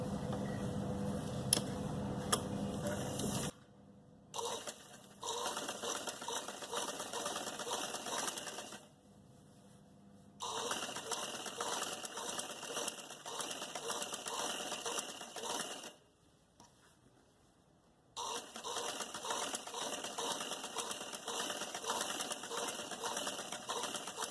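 A sewing machine stitches fabric folded over buckram for a trouser hem, running in fast, steady bursts with several short pauses between runs, close and clear.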